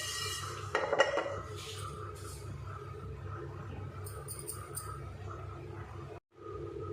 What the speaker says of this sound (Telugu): ఆయిల్ ఏమీ వేయకుండా ఇలా బాగా డ్రై రోస్ట్ చేసుకోవాలి